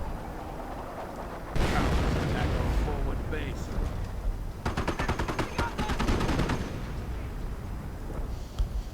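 Artillery barrages and small-arms gunfire rumble and crackle in a World War II strategy game battle between US and German forces, with a dense burst of rapid shots mid-way, heard beneath ongoing commentary.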